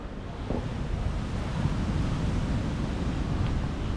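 Steady ocean surf washes onto the beach at a Penang seaside resort, a continuous broadband rush with some wind noise across the microphone and no voices.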